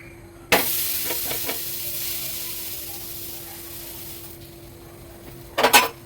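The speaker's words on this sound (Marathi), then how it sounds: "आता हा झालेला आहे मी प्लेटमध्ये काढून घेते आणि मी दुसरं थालीपीठ टाकते" Thalipeeth flatbread fries in oil on a pan, giving a steady sizzling hiss that begins with a sharp onset, fades slowly, and is broken by a few scraping clatters from the pan near the end.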